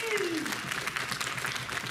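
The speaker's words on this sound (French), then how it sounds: "on l'applaudit encore bien fort" Crowd applause at a cosplay event at a pony fan convention, continuous clapping from many people with brief vocal sounds rising over it at the start.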